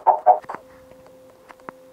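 Chickens cluck in the Minecraft video game, two loud clucks followed by a few quieter clucks and clicks over a faint steady tone.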